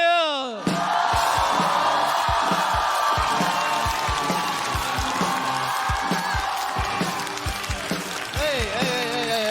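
A stand-up comedy audience welcomes a comedian onto the stage with loud, continuous applause and cheering, while booming walk-on music with a heavy beat pulses underneath throughout.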